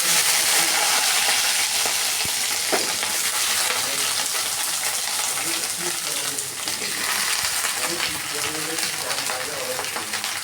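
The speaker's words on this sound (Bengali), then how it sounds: "ভেন্ডিগুলোকে আমি হালকা করে একটু ভেজে নেব" Cut okra sizzles and crackles steadily in hot oil in a wok, a dense, close frying hiss that runs unbroken throughout, with occasional stirring scrapes.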